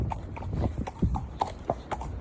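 Horse hooves clip-clop at an even walking rhythm, close and clear, with light background noise and no talking.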